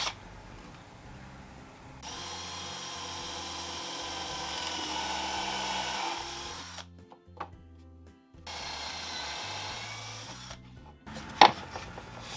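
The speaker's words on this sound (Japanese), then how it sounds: "4mm のドリルで穴を開けます。" A power drill with a 4mm bit whirs steadily through material in two sustained bursts with brief pauses between them, close up and with no talking.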